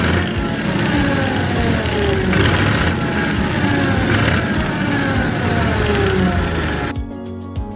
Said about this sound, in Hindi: ट्रैक्टर के आरपीएम को भी देखना है कि ट्रैक्टर आरपीएम एकदम से पकड़ लेता है या टाइम लगा रहा है